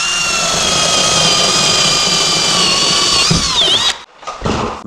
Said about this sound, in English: let me drill another hole here.